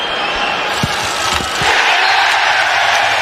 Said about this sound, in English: Rather ironic cheer greets the penalty.